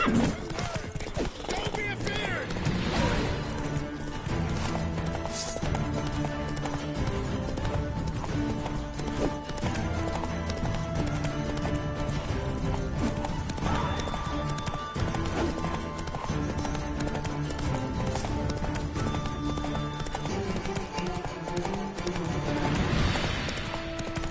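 Roach, the horse in The Witcher 3, gallops in a steady clip-clop rhythm under a constant game music bed, with a brief whinny and someone talking intermittently over the hoofbeats.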